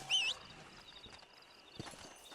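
Hooves clip-clop at a steady walking pace in Red Dead Redemption, fairly faint, with a short musical chime at the start and a brief scuffing thud near the end.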